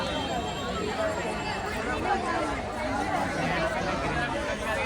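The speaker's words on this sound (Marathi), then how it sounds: "गर्दी बघा लेडीज लोकांची किती गर्दी आहे इकडे" Dense crowd chatter fills the ladies' section stalls at the Kala Ghoda Art Festival 2025: a steady, close, overlapping babble of many voices with no pauses.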